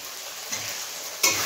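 Steady sizzle and hiss of chili powder frying in a pan of vegetarian paneer masala, close and fairly loud, with a brief sharper crackle near the end and no voices.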